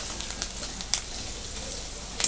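Kharda, a paste of chili, cumin and garlic, hits a hot frying pan with onion, giving a steady close hiss of sizzling with scattered sharp crackles and pops throughout.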